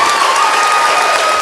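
An audience applauds in a room, dense and loud, sustained clapping with no break for the whole stretch.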